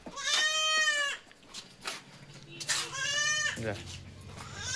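A young female Hyderabadi cross goat, a hornless type, gives two loud, wavering bleats close by, separated by a short gap and surrounded by background voices and farm noise.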